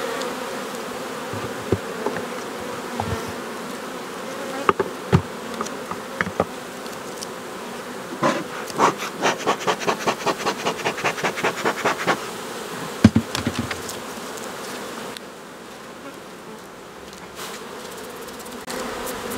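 Buckfast honey bees buzzing around a hive, a steady hum with brief sharper buzzes of individual bees flying close past, plus a run of faint rhythmic taps in the middle, no voices.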